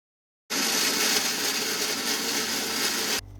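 A kitchen mixer grinder blends onion, tomato, coriander and mint into a fine paste for village-style chicken biryani, a loud steady whirring roar that starts abruptly and runs continuously for about three seconds before cutting off.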